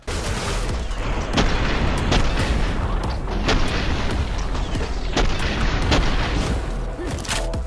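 Loud, booming gunfire from the cyberpunk shooter SPRAWL, with enemy cyborgs taken down by headshots. Heavy blasts repeat at irregular intervals over a dense, rumbling combat bed.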